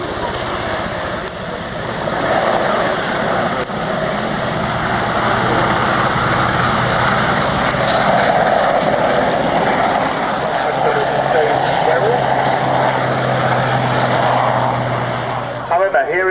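Propeller aircraft engine roaring through airshow aerobatics such as a tail slide at Cosford, a loud continuous drone that swells and shifts in pitch for the whole stretch, with a commentator's voice running over it.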